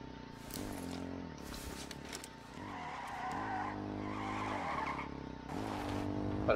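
Tires skid and squeal on a car in the survival shooter H1Z1, a loud, sustained screech rising and falling in several bursts over a continuous engine drone, with no talking.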